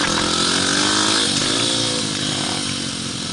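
Pit bike engine revving hard through a snow wheelie in a spring blizzard, a loud, continuous high-pitched buzzing whine heard up close, holding steady and then easing off slightly toward the end.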